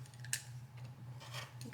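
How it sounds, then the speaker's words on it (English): A blade slices off two small fabric tails along a straight edge while piecing a quilt block, giving one sharp, brief snip over a steady low hum. "then we will just cut the 2 little tails off"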